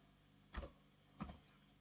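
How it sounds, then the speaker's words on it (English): Two brief, faint keystroke taps on a computer keyboard about half a second apart, each a soft click in a quiet room while writing code. "Now, what I need to do is type"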